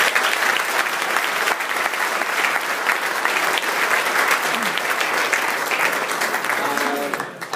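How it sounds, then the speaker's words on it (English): At a sports and technology panel event, the audience gives a long, full round of applause for the panelists, sustained and even until it thins out at the end. "Big round of applause for our panel."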